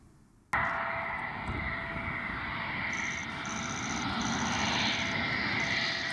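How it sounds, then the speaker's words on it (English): A UK Royal Air Force Eurofighter Typhoon lands at Ankara: steady, loud jet engine roar and rushing noise begins abruptly and holds for several seconds, with a faint higher whine above it and no voices. "A UK Royal Air Force's Eurofighter Typhoon fighter jet landed in Ankara for inspection by Turkish officials."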